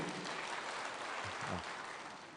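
A crowd at an AIPCA church retirement celebration in Kiambu County applauds for Senate majority leader Aaron Cheruiyot, a dense continuous wash of clapping that stays at a steady level throughout.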